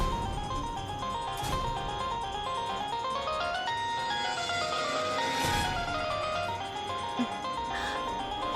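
A mobile phone rings steadily with a melodic ringtone for an incoming call, loud and continuous, with no talk over it, in a scene from a Tamil TV serial.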